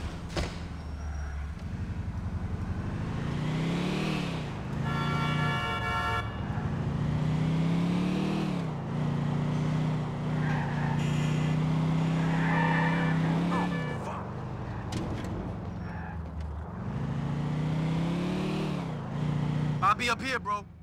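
A car engine revving and shifting through gears while driving in Grand Theft Auto: The Ballad of Gay Tony, steady and close, with voices talking over it throughout.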